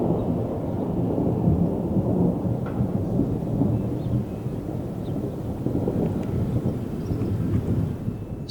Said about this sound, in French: J'entends des gros coups de tonnerre par moment